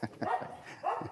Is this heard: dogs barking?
yes